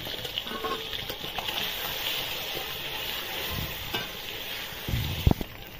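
Eggs frying in a pan with turmeric and salt give a steady, soft sizzle with occasional stirring scrapes and a brief louder clatter near the end.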